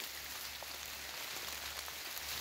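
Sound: light rain falling

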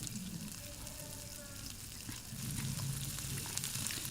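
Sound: vegetables frying: drumstick, potato and eggplant

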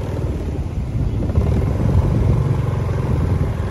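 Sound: police helicopter flying overhead

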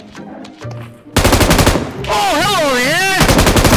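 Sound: gunfire in PUBG Mobile video game

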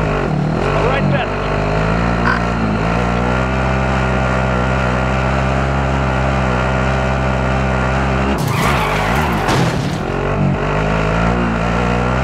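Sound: light vehicle driving and skidding in video game Call of Duty

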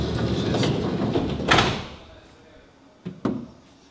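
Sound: VW van sliding side door being closed

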